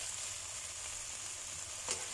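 Shallots, garlic and celery stalks sizzle steadily in a hot pan for Indonesian stir-fried chicken with cashews, a constant hiss with a brief stir near the end and no talking.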